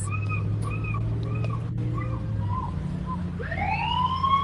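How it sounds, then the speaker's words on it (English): A wailing siren in Valdez, Alaska rises and falls in repeated sweeps, then shifts to a higher rising tone, over a steady low hum of background noise. "We have an alarm going off over here"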